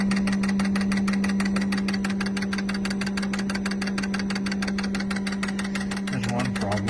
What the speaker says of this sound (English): There's 3 injectors injecting. One of them is dead.